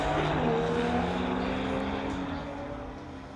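A 1971 Volkswagen Beetle and a green 2014 BMW race down a drag strip at a street-legal event, a sustained engine drone with rising tones fading slowly as the cars pull away into the distance.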